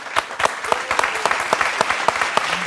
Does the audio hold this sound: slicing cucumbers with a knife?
no